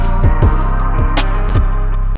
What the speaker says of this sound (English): Then I have this bell preset from Omnisphere,